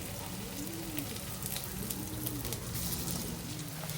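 Small and larger rounds of shaped dough fry in a little oil, giving a steady, close sizzle with soft bubbling crackle throughout; faint background voice-like tones sit underneath.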